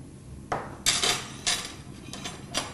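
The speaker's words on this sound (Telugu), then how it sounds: "పాన్ పెట్టి ఇందులో ధనియాలను వేయించుకోవాలి 2 టీ స్పూన్స్" Coriander seeds dry-roast in a pan without oil while a metal spoon stirs them, giving about half a dozen loud close clinks and scrapes at irregular intervals over a soft background, with no talking.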